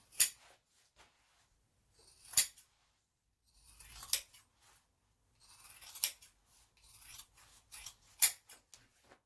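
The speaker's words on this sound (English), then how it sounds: "It's quite a satisfying sound, that snipping fabric." Scissors snipping through several layers of fabric at the corners while making a messenger bag: six or so crisp close cuts spaced a second or two apart, with soft rustling between them in an otherwise quiet room.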